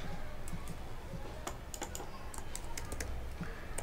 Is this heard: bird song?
no